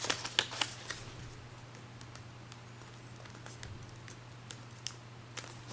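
A paper dollar bill being folded and creased for an origami camera, with crisp papery rustles and taps that come in small clusters near the start and end and go sparse in between, close and fairly quiet.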